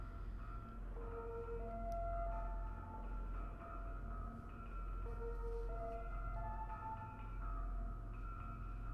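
A wailing siren in the video game SIGNALIS rises and falls steadily, somewhat distant and muffled, over a constant low rumble.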